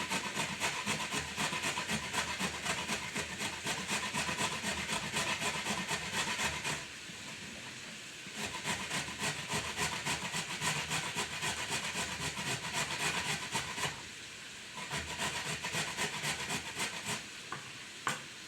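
Carrot grated on a metal grater, rapid rasping scrapes in steady repeated strokes with brief pauses between runs, close and fairly loud.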